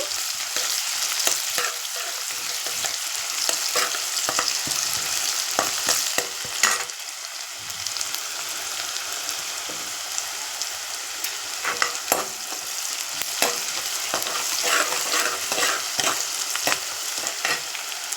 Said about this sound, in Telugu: చూడండి ఆనియన్స్ బాగా ఫ్రై అయిపోయాయి కదా